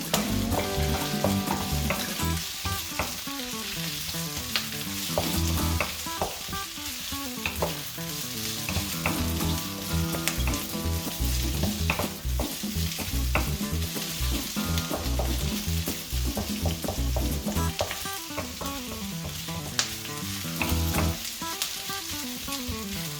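Beef and scallions being stir-fried for sizzling beef in black pepper sauce: a constant loud sizzle with busy rhythmic spatula clatter against the pan, close up and unbroken, no speech.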